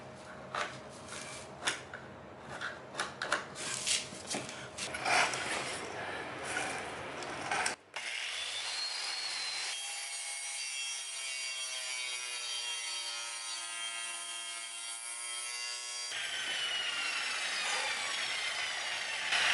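Powerful jamb saw cutting through a wooden door jamb at floor level, a loud steady whine of the blade under load that starts abruptly after some earlier scraping and handling noises and runs continuously to the end.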